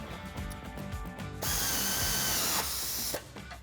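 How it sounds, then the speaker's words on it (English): An 18mm socket and wrench tighten the bottom bolt of a sway bar end link on a Jeep Wrangler JL during a lift kit install. Clicking ratchet work is followed by a loud burst of continuous power-tool whirring, close and alone. "Using your 18mm socket and wrench, tighten down the bottom bolt on the end link."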